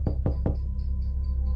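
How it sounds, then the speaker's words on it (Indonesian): Three quick knocks on a door, close and sharp, followed by a quiet room hum with no voices. "Ada suara perempuan sambil mengetuk pintu."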